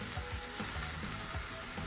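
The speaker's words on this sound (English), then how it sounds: "We'll saute this onion." Half an onion sautés in a pan with a dense, continuous close sizzle and soft stirring scrapes underneath, with no talking.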